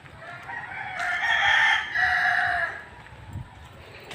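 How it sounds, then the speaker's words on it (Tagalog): A rooster crows once, loud and close, with a long drawn-out call in the middle of a large backyard chicken-raising area, with faint fowl clucking around it. "Daming manok doon. Talagang manukan tong lugar na ito guys."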